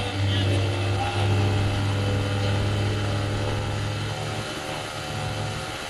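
Vortex Aero Black Devil paramotor engine with a Cors-air M25Y 172 exhaust pipe runs at high revs, a loud, steady droning roar that holds throughout with only slight swells in pitch.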